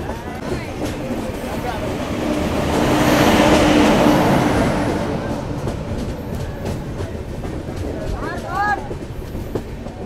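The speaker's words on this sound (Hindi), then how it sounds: "चल दी भाई हमारी ट्रेन" A passenger train pulls away at a station, heard from inside a carriage as rumbling wheels build to a broad swell and then ease, with a brief squeal near the end and people talking softly throughout.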